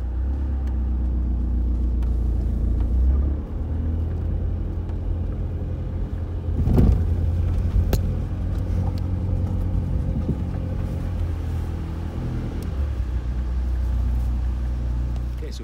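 VW Golf with a front ABS sensor fault driving at modest speed on a road test, steady low engine and road rumble heard from inside the car, with a brief louder bump midway.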